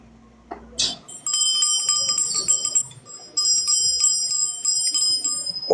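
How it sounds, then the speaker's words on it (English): A small bell rings repeatedly with bright, sustained metallic tones, struck several times in quick succession and left to shimmer, close by. "I hear the bell."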